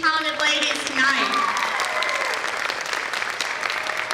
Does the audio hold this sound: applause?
yes